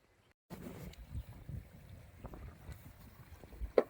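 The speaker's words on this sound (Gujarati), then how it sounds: "પણ પવન વધારે છે એટલે થોડોક પ્રોબ્લેમ થઈ ગયો છે" Strong wind buffets the microphone at a riverside campsite, a low rumbling roar that starts abruptly and gusts unevenly, with a sharp knock near the end.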